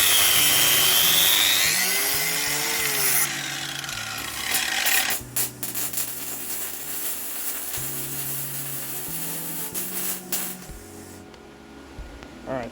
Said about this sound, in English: I picked up 2 4-foot pieces of 1-inch steel square tubing and cut one of them down into 2 2-foot pieces.